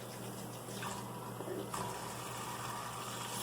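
A makeup brush swirls in running water in a bathroom sink, a steady splashing, gurgling stream close by with a slight shift in tone partway through.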